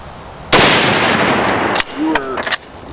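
A single loud Enfield rifle shot cracks outdoors, followed a moment later by a faint ringing clang from a steel plate hooked to a post downrange.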